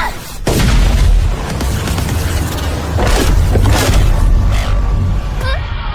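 Anime explosion from Konosuba, a massive sustained roaring blast with heavy rumbling low end and crackling debris bursts, loud and dense throughout, fading slightly at the end.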